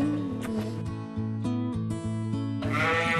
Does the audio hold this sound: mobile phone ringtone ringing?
no